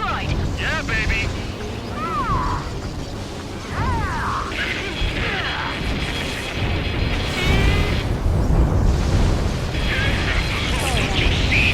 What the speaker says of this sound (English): Confirming explosions.